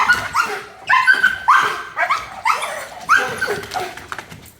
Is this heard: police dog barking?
yes